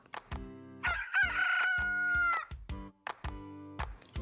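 A cartoonish rooster crow rises and holds over bouncy music, standing out clearly for a couple of seconds before the tune carries on.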